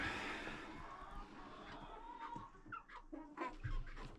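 Hens and roosters clucking on a farm where new young pullets have been mixed into the flock, a busy run of short calls and chatter, moderately close, with no talk over them.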